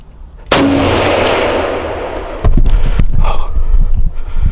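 A single loud firearm shot at a deer during Pennsylvania's 2023 firearms deer season cracks close by and rolls off in a fading echo, followed by faint rustling and movement.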